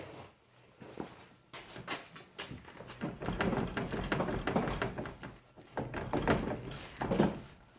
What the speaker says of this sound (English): the door, sliding door,